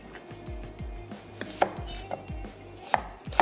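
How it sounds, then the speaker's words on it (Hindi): Medium onions roughly chopped on a board with a knife for beef seekh kabab, a run of quick, sharp, irregular chops close up, with no talking. "थोड़ा सा रफली चॉप कर रहे हैं"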